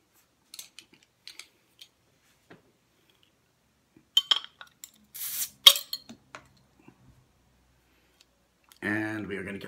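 A bottle of Port Brewing Santa's Little Helper stout is opened at home: scattered small clicks and clinks of glass and a metal opener, then a short loud hiss as the cap lifts, followed by a brief burst of voice at the end.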